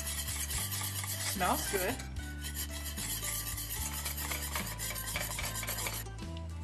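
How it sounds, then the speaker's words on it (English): Fish and shrimp frying in melted butter in a skillet, with a continuous close sizzle and scraping and stirring noises on top. A voice speaks briefly near the middle. "I melted 1 teaspoon of butter in the skillet, and then I added the fish and the shrimp."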